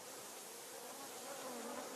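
Dying honeybees poisoned by pesticides give off a steady, close, fairly faint buzzing that swells slightly toward the end, with no voices.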